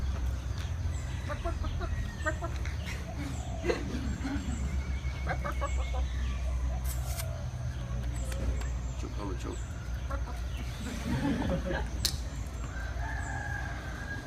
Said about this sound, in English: Can we give the chicken some corn?